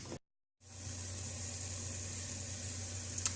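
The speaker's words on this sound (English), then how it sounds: "Our lamb stock is still boiling away." Lamb stock boiling away in a pot for lentil soup, a steady close bubbling hiss with a low hum underneath, continuous after a brief cut near the start, with no voices.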